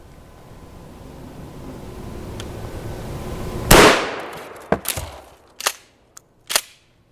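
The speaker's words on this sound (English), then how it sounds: "some 12 gauge shotgun slugs versus our level 3A?" A 1 oz 12 gauge shotgun slug fired at level IIIA hybrid body armor on an outdoor range gives one sharp, loud blast, followed by a few quick, clattering impact and debris sounds.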